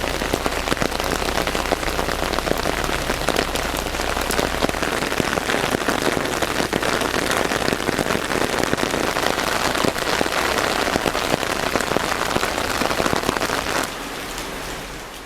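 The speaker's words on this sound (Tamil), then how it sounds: "தமிழ்நாட்டின் பல்வேறு மாவட்டங்களில் திடீரென பெய்த மழை" Heavy summer rain pouring down steadily in Tamil Nadu, a dense, loud hiss of drops on surfaces that holds for most of the stretch before easing slightly near the end, with no voices.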